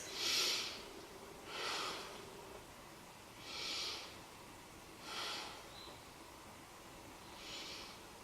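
Slow, deep breathing held through a beginner hip-release yoga pose, with about five or six airy exhales spaced evenly a little over a second apart, close and unhurried.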